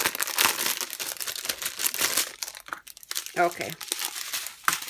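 Plastic packaging from a diamond painting kit crinkles and crackles loudly at close range almost without pause, with a short spoken word partway through.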